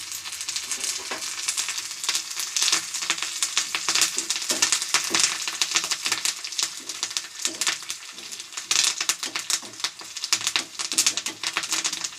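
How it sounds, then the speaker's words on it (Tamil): Onions and curry leaves fry in a pan for urad dal sambar, giving a steady, close crackling sizzle with scattered sharp pops and clicks of stirring throughout, with no talking. "வெங்காயம் நல்லா வெந்து வருது இந்த ஸ்டேஜில் நம்ம கொஞ்சம் கருவேப்பிலை வச்சுக்கிறோம்"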